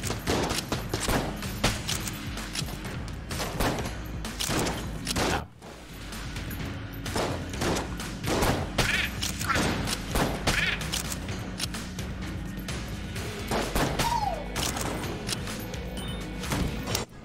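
Lich's eye bullets firing in the Enter the Gungeon video game: a dense, continuous barrage of rapid gunfire and impacts over busy game effects, with a brief lull partway through.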